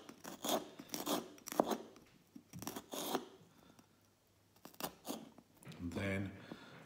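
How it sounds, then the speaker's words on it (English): A knife slices fresh chili into small strips on a board, a series of crisp cutting strokes at an uneven pace, close and fairly quiet, with a voice talking over them. "I'm going to cut like this."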